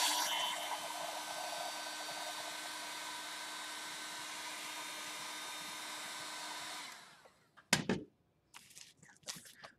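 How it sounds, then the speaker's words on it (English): A heat gun blows steadily for about seven seconds while heating a foam prop to add wood texture, then cuts off, leaving a few faint handling knocks. "So go back and hit that with the heat gun again."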